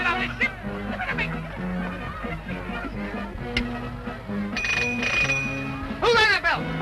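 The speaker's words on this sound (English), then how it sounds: "Who rang that bell?" A ship's bell on board in a 1936 sailor comedy rings out in bright metallic strikes near the end, over busy background music and noise, with a brief earlier ring.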